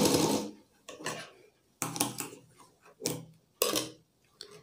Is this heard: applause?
no